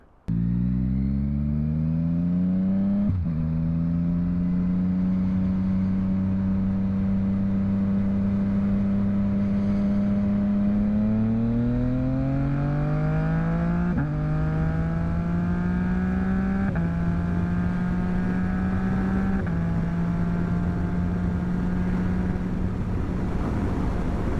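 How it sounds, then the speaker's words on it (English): A 2021 Yamaha MT-09 motorcycle engine revs steadily, its pitch climbing and dropping in several stepped surges with engine braking, loud and close, with no voices. "I haven't tried out the engine braking, but I'll do that in a couple minutes"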